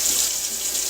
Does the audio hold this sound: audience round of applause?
no